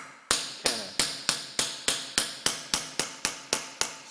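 A hammer strikes a carriage bolt former against a part for a Wilton Baby Bullet vise, making twelve sharp, evenly spaced metallic blows, each ringing briefly before the next.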